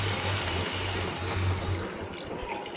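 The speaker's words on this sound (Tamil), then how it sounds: "2 டம்ளர் நான் ஊற்றிட்டேன் தண்ணி." Water is poured from a tumbler, pouring steadily with a continuous splashing rush over a low hum, close by.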